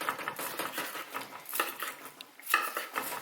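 A knife works through roast Peking duck breast on a cutting board, giving a steady run of close, crisp scraping and tapping strokes with a few sharper clicks, and no talk.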